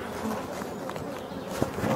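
European black bees buzz in a Brittany forest on a spring day, a low, steady outdoor drone of many insects close by, with faint rustling underneath and no talking.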